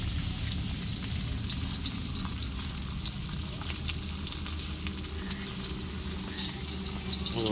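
Fish frying in hot oil makes a continuous, even, crackling sizzle at moderate volume that runs unbroken throughout, with no one talking.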